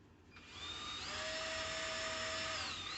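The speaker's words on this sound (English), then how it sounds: "I'll use this and show you how that goes with a little drill, a little 12 volt or whatever you want" A small 12-volt cordless drill whines steadily on its high setting, its pitch rising once it spins up and holding constant until the end, with no talking.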